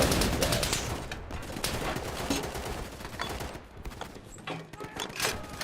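Easy Red 2 battle gunfire: dense, continuous rattling shots and distant bursts crowd together into a loud, sustained barrage with no pauses, and no voices come through.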